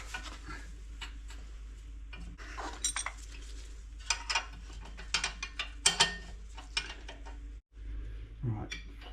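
A ratchet clicks in short bursts while tightening the rear brake bolts on an Alfa Romeo Giulia Veloce, the clicks close and fairly quiet over a steady low workshop hum, with occasional metallic clinks.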